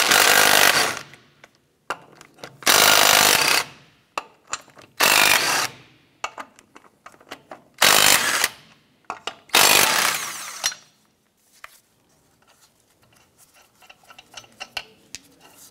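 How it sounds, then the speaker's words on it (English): Bursts of a power tool loosening and removing lug nuts with a 19 mm socket on a 1994-2004 Chevrolet S10 wheel, several loud whirring runs separated by pauses with clicks and small metallic rattles. "Use a 19 millimeter socket to loosen and remove the lug nuts."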